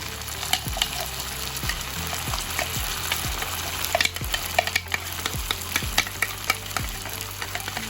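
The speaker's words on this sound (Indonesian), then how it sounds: "Kita tumis bumbunya." Blended spice paste for East Javanese beef rawon sizzles and fries steadily in a pan, with repeated scraping and stirring clicks over a continuous crackle.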